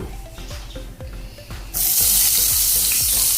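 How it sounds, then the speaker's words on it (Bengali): Onions hit hot oil in a wok (kadai), and a loud, dense sizzle suddenly takes over after a stretch of regular low mechanical ticking. "পেঁয়াজটা ভেজে নেব"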